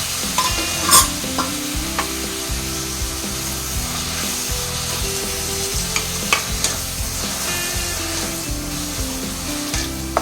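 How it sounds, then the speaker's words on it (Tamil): Tomatoes and garlic cloves sautéing in a pan with softened onions for a tomato kulambu, giving a steady low sizzle with spoon stirring and scraping and a few sharper clinks, no talk. "இப்போ நம்ம தக்காளி போட்டுக்கலாம் அது கூட பூண்டு பல் போட்டுக்கலாம்"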